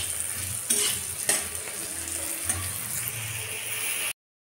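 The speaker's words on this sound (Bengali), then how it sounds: "সিমটা আমি ভেজে নিচ্ছি।" Flat beans (sim) frying in a pan, a continuous close sizzle with occasional clinks and scrapes of a spatula, no talk, ending abruptly.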